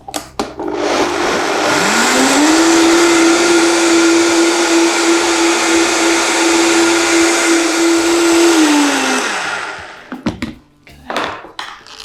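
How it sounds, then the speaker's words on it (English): A blender purees raw coconut soup with nuts, spinning up to a loud steady whine for about eight seconds before winding down, with clatter around the start and finish. "And blend again"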